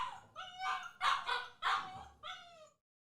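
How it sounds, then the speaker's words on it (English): A dog barks several times in close succession, loud and nearby, each yelp rising and falling, before the sound cuts off into silence. "This dog is gonna be the end of me."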